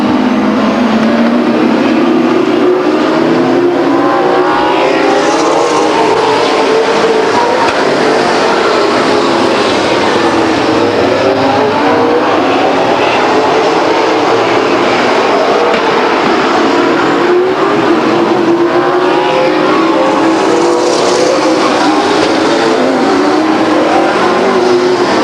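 Race cars roar continuously around the oval at Stockton 99 Speedway during a 1999 short-track race, a dense, loud wash of engines passing and Doppler-sweeping by, with no voices over it.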